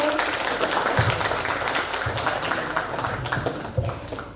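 Audience applause for guest lecturer Mr. Bhanu Prakash at an international guest lecture, a steady wash of clapping with a low hum and some voices mixed underneath.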